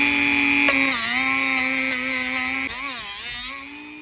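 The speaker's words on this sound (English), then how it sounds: "get my little Dremel. I'm gonna clean this real quick, the hub ring here" A small Dremel rotary tool spins a sanding drum against the hub ring of a Ram Promaster 2500 during a front brake job, giving a loud, steady high-pitched whine that dips in pitch twice under load before easing off near the end.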